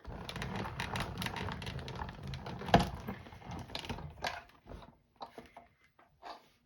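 A manual die-cutting machine cranks a layered sandwich of card stock and a Patchwork Pieces die through its rollers, giving a steady grinding, ratcheting churn for about five seconds that then thins into a few scattered clicks and handling sounds.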